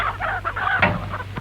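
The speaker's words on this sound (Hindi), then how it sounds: "मुर्गियों को रोको।" Chickens cluck in quick, busy bursts over a steady low hum, close and fairly loud, with no talking.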